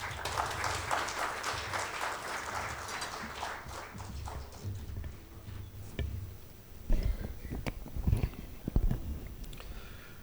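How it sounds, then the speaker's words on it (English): An audience at a book launch and management talk applauds to welcome a speaker, loud clapping at first that thins and fades into scattered claps and room noise. "Please give him a big round of applause."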